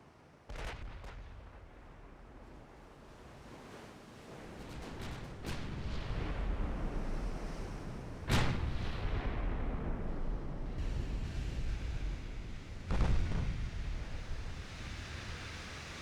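Heavy naval guns of dreadnought battleships fire in the Ultimate Admiral Dreadnoughts game: several booming blasts, two especially deep and loud, ring out over a low rumbling sea-and-wind background with no talking.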